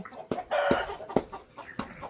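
A rooster crows and clucks close by in short, loud, uneven bursts, with no one talking.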